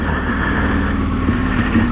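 An Aprilia Tuono Gen 1 motorcycle with a V990 engine rumbles steadily and loudly while being ridden. The engine drone is continuous and close for the whole stretch, and no one speaks.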